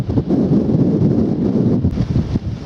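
Wind buffets the microphone on a countryside walk between Ham Street and Appledore, a loud, continuous low rumble that gusts and swells without pause and with no voices.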